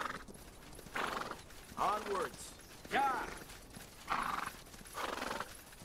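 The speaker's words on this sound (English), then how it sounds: "I prefer listening to your horse." A horse in the fantasy strategy game Spellforce 3 clip-clops steadily with rhythmic hoofbeats and whinnies a couple of times, close and clear, while a voice briefly speaks over it.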